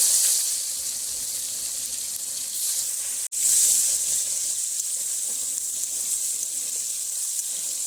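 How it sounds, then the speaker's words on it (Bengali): Nigella seeds and chopped tomato sizzle in oil left from frying fish. The steady, close hiss fills the whole stretch, breaking off for an instant midway, with no talking. "ওই মাছ ভাজার তেলেই দিয়ে দিচ্ছি কালো জিরে, কুচনো টমেটো"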